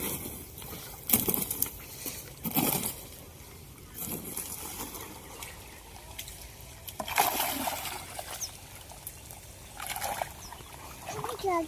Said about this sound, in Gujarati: જો ભાઈ પાણી એટલું બધું આવે છે